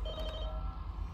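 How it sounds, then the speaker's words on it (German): A quiet telephone ringing in the video game The Walking Dead: Michonne, with short bright ring tones near the start over a low steady background hum and no talk. "Wir gehen ans Telefon."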